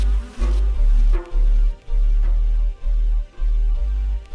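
Insects buzz in a loud, close, low drone that swells and cuts off in regular pulses, about one burst every second.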